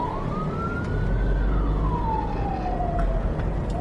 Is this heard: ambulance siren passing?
yes